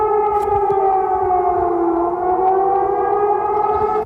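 An emergency civil defense siren, reportedly Iraq's, wails loudly and continuously in a steady multi-tone drone that cuts off abruptly at the end.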